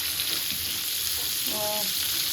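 Fish frying in a pan for a curry gives a continuous close sizzle and crackle, with a faint short tonal clink partway through.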